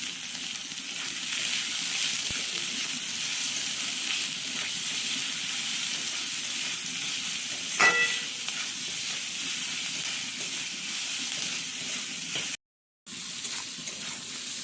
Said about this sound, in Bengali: আবারও ভালোভাবে নেড়ে ছেড়ে নেওয়া হচ্ছে।